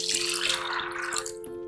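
Water pours steadily into a pressure cooker holding soaked black chana with a little turmeric and salt, a close, continuous splashing rush with no talk.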